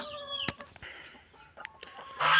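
Chickens and turkeys on a small home farm, several close clucks and short calls with a few sharp knocks, ending in a louder burst of fowl calls.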